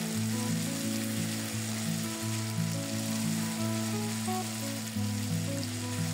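Ginger and garlic fry with onion in a pan for a whole-cauliflower roast, giving a steady, close sizzling hiss that runs throughout under a continuous tonal backing of music.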